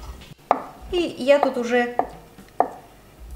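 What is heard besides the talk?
knife slicing boiled egg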